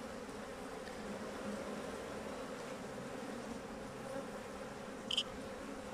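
Honeybees buzzing steadily around an open hive during a beekeeping inspection, a continuous close drone with many drones in the colony and a brief louder buzz near the end, quiet and without speech.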